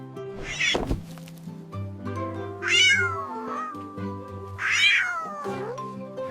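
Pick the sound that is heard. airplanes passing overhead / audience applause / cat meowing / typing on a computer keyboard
cat meowing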